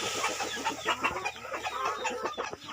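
Young crossbred chickens, Thai native hens mixed with Leghorn, cluck and chatter in a farm coop, a busy overlapping stream of short clucks at close range with no talk.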